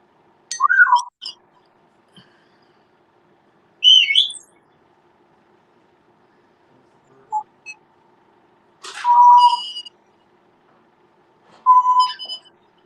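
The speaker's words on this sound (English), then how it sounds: "My birds are being silly." Pet birds chirp and whistle indoors in short, separate bursts of bright calls with quiet gaps between them, close to the listener.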